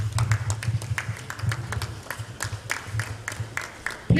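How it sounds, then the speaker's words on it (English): Scattered claps from an audience at a formal management conference as a retired commodore and council chairman walks to the podium, sparse and uneven over a steady low hum. "Please, can we keep applauding him as he comes to the podium?"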